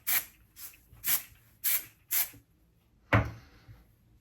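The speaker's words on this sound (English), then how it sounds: "now I would hit this with a little bit of hairspray" Hairspray is sprayed onto a short pixie cut in five quick, close hissing puffs, then one final burst after a brief pause.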